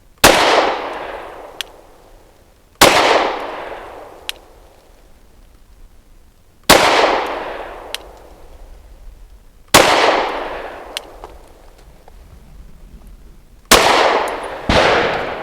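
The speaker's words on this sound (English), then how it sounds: "Take 2 of Graham's 5 shots from 7 yards" Five loud, sharp pistol shots from a Kimber R7 Mako Carbon Compact are fired at a target seven yards away, spaced a few seconds apart. Each crack rings out, decays, and is followed by a short metallic clink.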